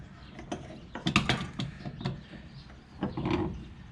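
A bench vise being cranked tight on a car tie rod: a run of ratcheting metallic clicks and knocks, uneven in rhythm, close and fairly quiet, with brief pauses between bursts.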